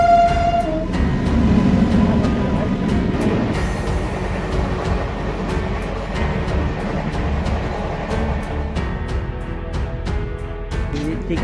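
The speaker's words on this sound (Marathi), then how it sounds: "ट्रेनची क्रॉसिंग होणार आहे." The Nagavali Superfast Express rushes past during a crossing, heard from an Devagiri Express train halted at the station, with a brief horn at the start, then continuous loud rumbling and rhythmic wheel clatter.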